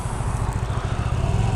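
A Hyosung Aquila 125cc motorbike engine on a test ride, a loud steady throbbing drone, close and continuous.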